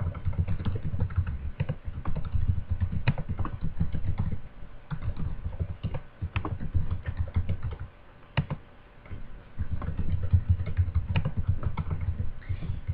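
Answer options typed on a computer keyboard: a quick, uneven run of close key clicks in bursts, with a few short pauses and one louder tap standing out.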